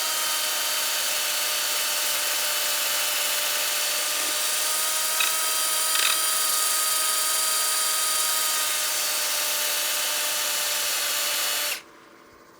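A drill spinning a sanding disc against a turned wooden bowl gives a steady, high, whining drone for about twelve seconds, close and constant, before it abruptly stops.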